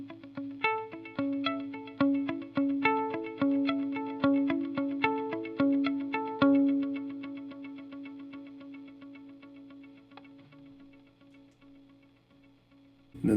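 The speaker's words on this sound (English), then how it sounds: "Then I've got this pattern delay that I use for our U2 stuff." Electric guitar through a pattern delay pedal on a pedalboard, set up for U2-style parts: a steady rhythmic run of picked notes with cascading echo repeats for about six seconds, then echoes thinning and decaying over a sustained tail.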